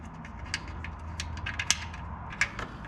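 Plug being snugged into the oil filter housing of a 2014 Toyota Camry 2AR-FE, a few faint, quiet clicks and light mechanical ticks at irregular intervals.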